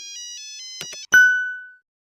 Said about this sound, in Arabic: استنى كده لما اشوف مين اللي عمال بيرن عليا ده